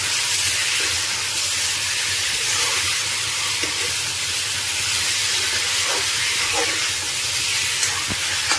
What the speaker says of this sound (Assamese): মছলা মিক্স কৰি কিনে ভালদৰে ভাজিম